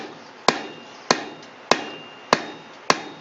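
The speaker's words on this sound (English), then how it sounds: "I use the round die of my hammer, and I go all the way around." Blacksmith striking a square steel bar with the round die of a power hammer, five sharp metallic blows at an even, slow rhythm, each ringing briefly before decaying.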